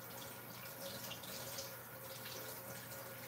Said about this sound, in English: I'm going to go wash my hands over here.